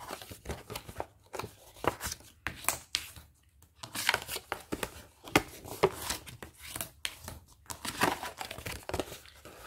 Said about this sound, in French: on vient marquer les plis